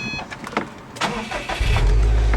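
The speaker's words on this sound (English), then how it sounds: "the engine has a very traditional turbocharged, old-school noise when you start it up" A turbocharged 2012 Subaru Impreza WRX STI engine cranks and catches, settling into a steady, loud low rumble that fills the second half.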